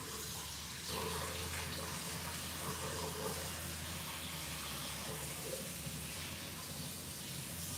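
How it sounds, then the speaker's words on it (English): A kitchen tap runs in a steady, soft hiss of water for rinsing pasta in a strainer pot, continuous and fairly quiet. "I'm just going to turn on the water here. I'm going to let this rinse."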